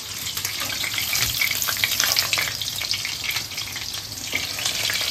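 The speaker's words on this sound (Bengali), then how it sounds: "এই যে চিকেনগুলো কিন্তু ভালো মতো ভাজা হয়ে গেছে, আর খানিকটা আছে ভেজে নিই।" Chicken pieces frying in hot oil for dry chilli lollipops, a steady dense sizzle that stays loud and close for the whole stretch, with faint crackles and no voices.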